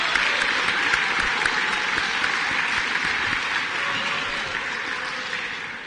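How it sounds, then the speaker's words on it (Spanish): A large audience applauds loudly and continuously in a dense, even roar of clapping that fades slightly toward the end. "ustedes se merecen un aplauso para la Sultana de los Andes"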